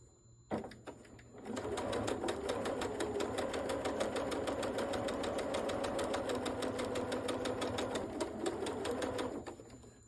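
Sewing machine running steadily for several seconds as it stitches quilt fabric around a curve with a scant quarter-inch seam, its rapid even needle rhythm starting after a short click and stopping near the end.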